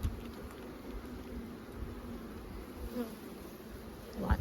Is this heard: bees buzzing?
yes